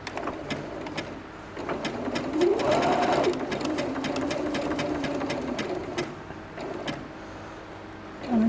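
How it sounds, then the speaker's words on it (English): A sewing machine runs a zigzag stitch along the middle of a butterfly design, its motor whirring in a steady, rising and settling hum for several seconds at close range. "I'm going to do a zigzag stitch down here for the butterfly"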